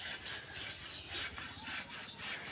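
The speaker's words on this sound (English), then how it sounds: "sawing some ice" A hand saw cuts through a block of ice in a steady back-and-forth rhythm, each stroke a coarse rasping scrape, close and moderately loud, with no talking.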